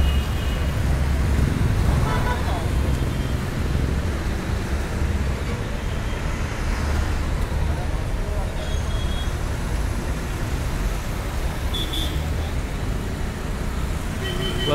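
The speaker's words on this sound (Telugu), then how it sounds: "బస్సు వెనక బస్సు వస్తూనే ఉంటుంది" A steady stream of buses rolls past one after another on a busy road, a continuous loud rumble of engines and tyres with occasional brake hiss and horn-like tones.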